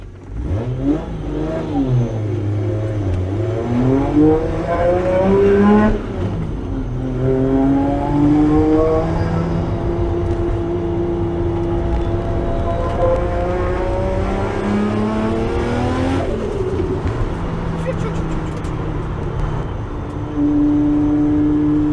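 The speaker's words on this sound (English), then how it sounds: "If you can hear the rattle, we've got a twin plate clutch as well" A 1990s Toyota Soarer engine with a rattling twin-plate clutch revs up and down repeatedly, rising and falling in pitch, with a rough idle between revs. The engine is close and there is no talk.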